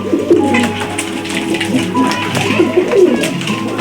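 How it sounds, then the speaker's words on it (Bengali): Lahori pigeons coo in a loft, with several soft, repeated throaty calls overlapping close by against a quiet background of other birds. "আর আমাদের এটা আমাদের বুড়া কবুতর, এটা হচ্ছে লাহোরি।"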